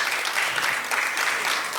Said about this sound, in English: let's see if they clap for you all the way.